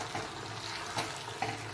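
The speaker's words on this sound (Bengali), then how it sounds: "এইবার এটাকে আমি হাই ফ্লেমে ভাজা ভাজা করে নেব।" Ash gourd, a pumpkin-type vegetable, frying on high flame, giving a faint wet sizzle with a few soft stirring knocks over a short stretch, no voices.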